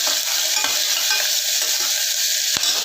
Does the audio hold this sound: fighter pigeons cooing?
no